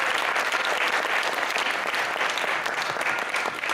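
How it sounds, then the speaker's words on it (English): A crowd at a music and technology event applauds a guest speaker with loud, sustained clapping that holds evenly throughout. "let's give a round of applause for Dr."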